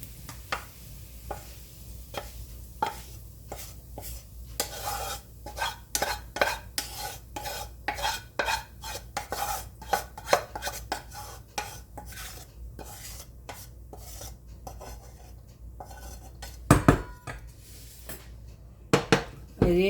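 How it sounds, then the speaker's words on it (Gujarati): Roasted fenugreek seeds and edible gum scraped from a kadhai into a bowl, a rapid series of sharp metal spoon scrapes and clinks against the pan, close and fairly loud, with a louder clatter near the end. "આ એક બાઉલમાં આપણે કાઢી લઈએ મેથીને"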